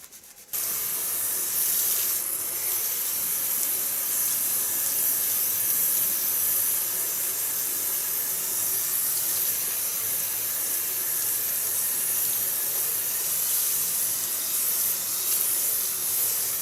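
Steady hissing spray of water rinsing colour out of hair, running continuously and close up after an abrupt start, with no talking over it.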